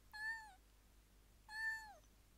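A cat meows twice, two clear drawn-out calls about a second apart, close by against a quiet background.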